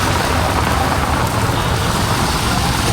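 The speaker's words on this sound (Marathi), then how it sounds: "पाऊस पुन्हा सुरू झालेला आहे बघा" Rain falling heard from inside an auto rickshaw in Maharashtra traffic, a steady, dense wash of noise without breaks, close and fairly loud, with no talking.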